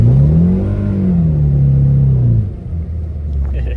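A Mitsubishi Eclipse project car, run for the first time in six years on a 5°F morning, drives off with a steady mid-pitched engine drone that rises and eases, its exhaust rumble close and loud throughout.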